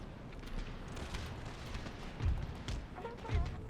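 Musket volleys and cannon fire in the battle game Empire Total War, heard as a dense, rumbling crackle of distant shots with a couple of heavier booms standing out, moderately quiet and continuous.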